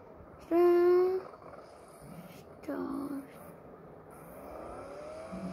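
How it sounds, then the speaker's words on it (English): A video-game electric car whines as it accelerates, its rising electric hum heard in a few separate bursts over a faint background. "Sounds like an electric one"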